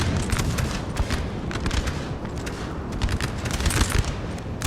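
Ragged volleys of musket fire crackle across a Napoleon Total War battlefield, dense overlapping pops in uneven bursts with heavier booms of artillery beneath, sustained and moderately distant.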